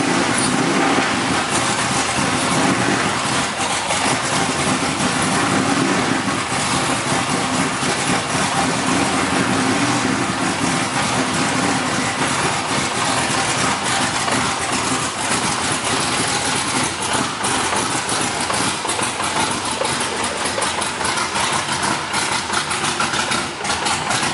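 A BMW E46 drift car fitted with an LS V8 and chasing a misfire idles loudly and up close, a continuous rough engine drone with slight unevenness for the whole stretch.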